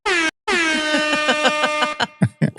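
A loud, blaring air horn blasts in a short burst, then a longer sustained blast, ending with a few quick choppy honks.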